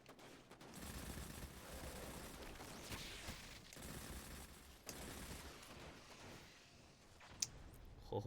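Sustained automatic gunfire and bursts in the video game Destiny 2, loud and continuous throughout with a sharp crack near the end, no talking.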